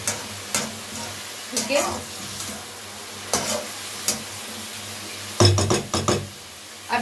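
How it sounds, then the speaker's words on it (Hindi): Spiced potato and flat beans fry in a pan while a spoon stirs them, making a soft sizzle broken by irregular scraping and clinking strokes. A brief spoken word comes near the end. "अब इसको अच्छी तरह चलाएंगे हम पूरे मसाले को अच्छी तरीके से"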